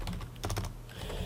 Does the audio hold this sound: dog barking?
no